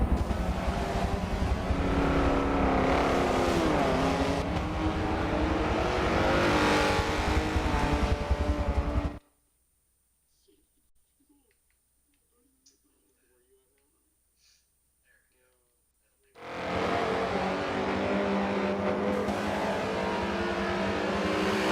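GS-class race cars at Daytona during a Michelin Pilot Challenge round, engines roaring loud and steady before cutting to near silence, then the roar resumes; speech runs over the engine noise.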